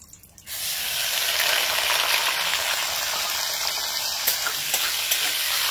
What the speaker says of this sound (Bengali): এবার এর মধ্যে দিয়ে দিচ্ছি যে চিংড়ি ভাজাটা